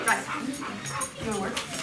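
Riley, a rescue dog, barks and yips in short bursts indoors, close and fairly loud, mixed with a person talking.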